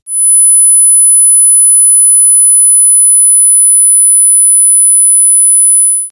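A single pure 10 kHz sine test tone sounds steadily and loudly for several seconds, fading in and out smoothly, with nothing else present.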